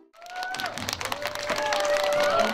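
Children at a multicultural families' Christmas event with Santa clap warmly after a performance, the applause building and thickening under sustained musical tones.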